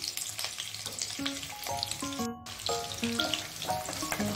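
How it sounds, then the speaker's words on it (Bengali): Onions frying in hot oil for methi chicken, a near, crackling sizzle punctuated by short ringing clinks of utensil against the pan. "এবার তেলটা আমাদের গরম হয়ে গেছে, এর মধ্যে আমি পেঁয়াজটা দিয়ে দেব।"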